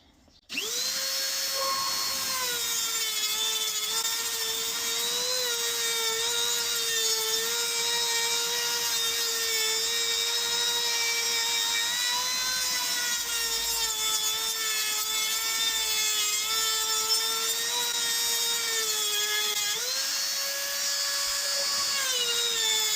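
An 80-grit flat abrasive ports a small-block Chevy cylinder head with a sustained, piercing high-speed whine. The pitch wavers slightly as pressure shifts, running loud and close without a break.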